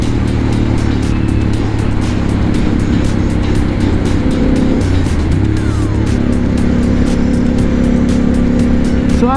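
Triumph Scrambler 1200 motorcycle engine pulling hard under throttle, a loud, steady, close-up roar with strong low rumble and wind noise throughout, no speech.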